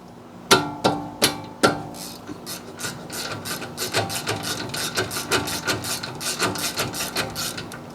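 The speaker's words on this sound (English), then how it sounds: "these two bolts here are 17 millimeters. So go ahead and loosen these." A wrench works loose the 17 mm brake caliper bolts on a Honda Pilot, opening with a few sharp metallic knocks, then a run of quicker, softer rhythmic ratcheting clicks, close up.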